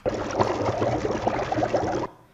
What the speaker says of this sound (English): It sounds like bubbling water.